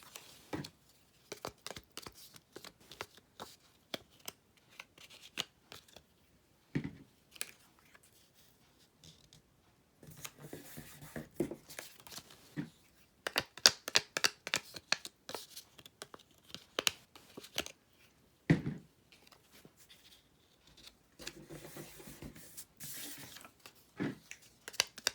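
Shiny foil-coated planner paper is handled and shuffled at a desk, with sporadic crinkles, rustles and taps that come in clusters separated by quiet gaps, close and soft with no speech.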